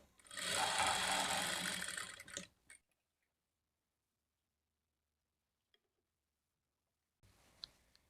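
A sewing machine stitching a long frock whirs loudly for about two seconds and stops, followed by near silence with a faint tick and then some quiet handling noise.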